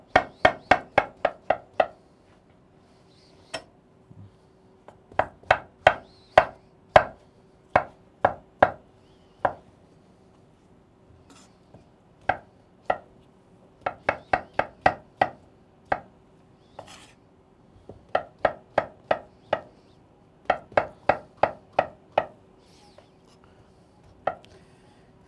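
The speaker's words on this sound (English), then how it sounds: "So I'm just going to chop this real quick here." A knife chops an avocado on a cutting board in quick, rhythmic bursts of sharp, close taps. Brief pauses separate the runs of chopping, and nobody speaks.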